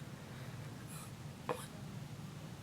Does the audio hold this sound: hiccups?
yes